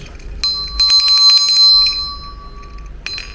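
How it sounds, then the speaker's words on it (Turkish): A small stationery-store bell rings with a bright metallic ding, struck a few times in quick succession, then sounds once more after a short pause. "Güzel bir çan var."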